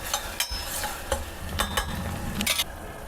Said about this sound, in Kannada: ಸ್ವಲ್ಪ ಗರಂ ಮಸಾಲ ಹಾಕಿ ಇನ್ನೊಂದ್ಸತಿ ಚೆನ್ನಾಗಿ ಮಿಕ್ಸ್ ಮಾಡ್ಕೊಳ್ಳೋಣ